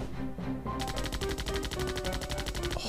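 A rapid, steady burst of repeated gunshots from skeleton enemies in the game Zombie Panic in Wonderland rattles off like automatic fire, close and sharp, layered over an ongoing game backdrop.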